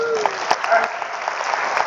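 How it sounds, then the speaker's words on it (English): A conference audience claps for John in a brief burst of full, steady applause, with a voice talking over it. "let's give John a big round of applause"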